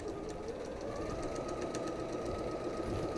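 A sewing machine runs steadily while stitching a fabric strip for a twist-ruler quilting project, giving a continuous close mechanical hum with a light rapid ticking.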